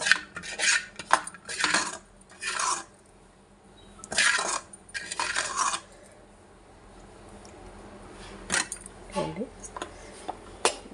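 A spoon scrapes and taps against a bowl in several bursts, with a soft wet scoop or two and quiet clinks, close by.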